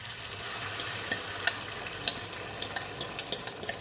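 Spanish tortilla egg mixture hisses and sizzles into hot oil in a pan, a soft steady fry broken by scraping and stirring taps, no speech.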